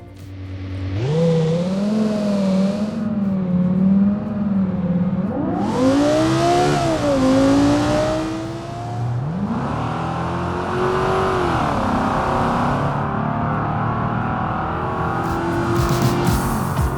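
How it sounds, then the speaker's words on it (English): Modded car engine sounds recreated in the BeamNG driving game: several separate runs of a loud engine revving up through rising pitch sweeps and shifting, each roaring for a few seconds with brief pauses between. "Hellraiser makes amazing recreations of actual engine sounds"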